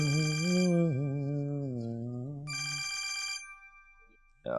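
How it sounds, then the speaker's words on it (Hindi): A telephone rings with a bright electronic trill in two bursts while a voice hums or talks underneath, ending in a sudden sound. "यार ये किस टाइम पे फोन आ गया?"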